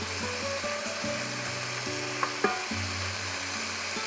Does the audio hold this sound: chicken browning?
yes